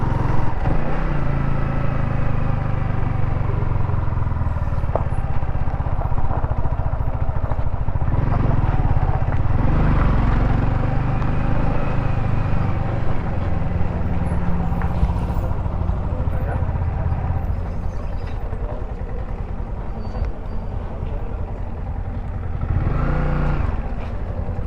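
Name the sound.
Royal Enfield motorcycles riding on the road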